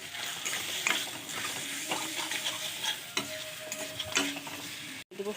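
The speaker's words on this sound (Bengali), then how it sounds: "মেখে রাখা আগের থেকে ম্যারিনেট করা চিকেনগুলো ভালো করে কষিয়ে" Marinated chicken is stir-fried in a pan at home, with a continuous sizzle broken by repeated scraping stirs and clinks, close and moderately loud, with no talking.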